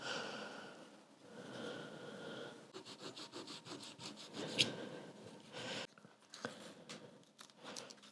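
Cotton swabs soaked in isopropyl alcohol scrubbing grime off guitar pickups, faint close rubbing and scratching strokes in irregular bursts with brief pauses.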